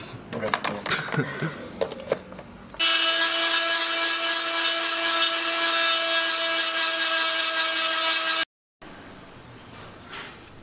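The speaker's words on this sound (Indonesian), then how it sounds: "Nih, nanti dibor dulu. Dipakai ini nih. Mini grinder." A handheld mini grinder cuts while a radiator water sprayer is being built, giving a steady high whine for several seconds before it stops abruptly; talk is heard before and after.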